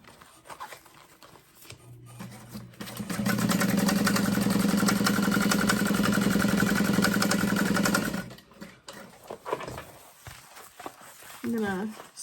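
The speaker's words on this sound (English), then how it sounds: "I'm going to sew the bottom together first" A sewing machine runs steadily for about five seconds, stitching the bottom of a thick vinyl binder cover, with quieter handling and a voice speaking before and after.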